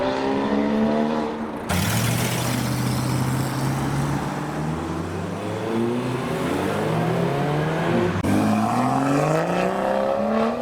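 A Porsche Cayman GT4 drives past at a JDM car meet, its engine loud and close, revving and climbing through the gears with a sharp throttle blip partway through, no voices over it.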